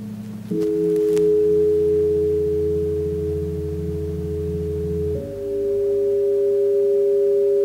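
A sleep brainwave, sonified and slowed down roughly 1,000 times, hums as sustained low electronic tones stacked like a drone, then shifts to a new pitch near the end; no voices.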